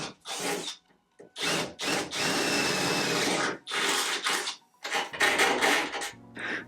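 A power drill bores a hole in the trunk of an S13 hatchback, running in several loud whining bursts of varying length with short pauses between them, close up with no talk.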